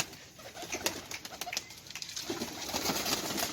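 A pigeon coos close by in a rooftop loft in Sialkot, soft repeated calls with some wing flutter and faint background noise, no talk.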